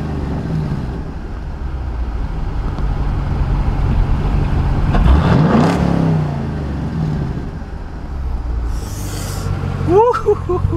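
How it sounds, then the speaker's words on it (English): Low, steady rumble of a Chevrolet Camaro SS's 6.2-liter V8 engine idling nearby, with a brief rising rev in the middle and a faint whine near the end. "It's a V8 engine,"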